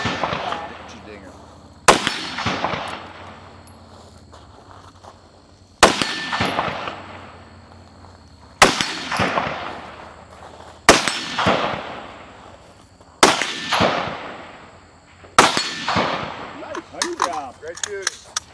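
At a women's rifle shooting match stage, six sharp rifle shots crack at steady intervals, each followed by a metallic ring from a steel target and a long fading echo, loud and outdoors.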